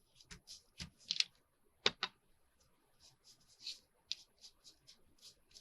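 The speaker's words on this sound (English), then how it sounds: "We're going to crumple it up." Purple paper is crumpled up by hand for a journal craft project, giving a series of soft, irregular crackles and rustles at close range, quiet and intermittent.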